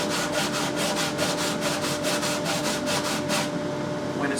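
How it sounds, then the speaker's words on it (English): Guitar bindings are sanded lengthwise across the grain with steady, rhythmic back-and-forth rubbing strokes, close and loud, continuing for several seconds and then stopping. "I start sanding lengthwise across the grain of the bindings"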